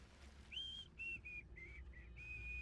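A character whistles in Hogwarts Legacy: a short, clear, wavering tune of five or six notes with brief gaps between them, fairly soft over a quiet ambient hum and no talking.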